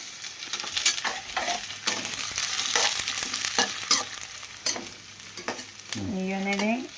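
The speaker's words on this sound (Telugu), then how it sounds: "ఇంకా ఆయిల్ అయితే హీట్ ఎక్కింది. ఇంకా ఉల్లిపాయలు అయితే వేసుకున్నాము." Onions fry in hot oil with a loud, close sizzle and repeated stirring scrapes, and a brief squeaky tone rises near the end.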